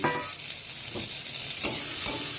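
Onion and chopped tomato frying in a pan while being stirred, a steady soft sizzle with a few scraping strokes of the spatula, close and fairly quiet.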